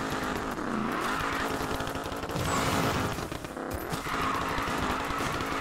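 A Mercury Cougar drift build racing in Need for Speed Payback, engine revving and shifting continuously with rising and falling pitch, tire squeal mixed in, loud and close throughout.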